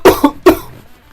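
A person coughing close up, three sharp loud barking coughs in quick succession, the last followed by a fading throaty tail.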